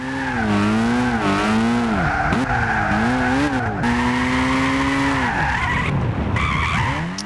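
A Mazda RX8 with a realistic drift build slides through corners in Gran Turismo 6, its engine whining up and down with gear changes under a loud, sustained tire squeal that breaks off briefly near the end.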